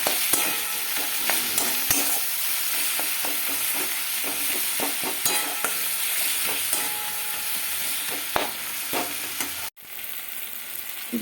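Chopped tomatoes with salt and turmeric being stirred in a frying pan, a steady hiss of sizzling oil punctuated by frequent scraping and clacking of the spatula, close and continuous, with no talk.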